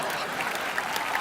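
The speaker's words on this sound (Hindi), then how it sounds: "तो जोरदार तालियों से स्वागत कीजिए फुकरी पोली पंजाबन यानी के रिचा चड्डा" Studio audience at a television comedy show breaking into a short, dense burst of applause, loud and continuous throughout with no voices over it.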